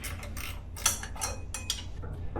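A ratchet wrench clicks on a power steering pump bolt of a 1966 Mustang, with a few short, close ratcheting bursts and light metallic clatter in a quiet garage.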